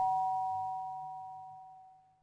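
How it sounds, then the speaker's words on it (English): A single doorbell chime rings out, two clear tones sustaining together and slowly fading away in a quiet room. "rings the doorbell, nervously biting her lip"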